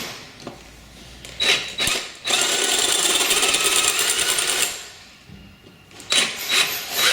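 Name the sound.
drill drilling out a snapped exhaust stud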